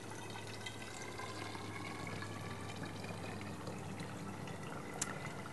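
Coconut water pours through a small funnel into a container, a soft continuous trickle and gurgle heard faintly and alone.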